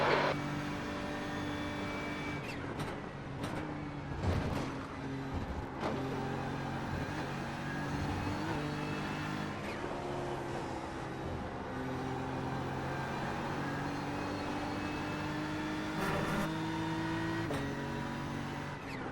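A faster GT3 race car closes in during a sim race at Watkins Glen, its engine note a sustained, fairly quiet drone with shifting tonal harmonics and a few sharp transient bumps throughout.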